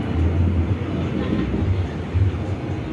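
A train rumbles loudly and continuously past a station in Jakarta, a close, heavy low rolling drone with faint rhythmic wheel clatter and no talk over it.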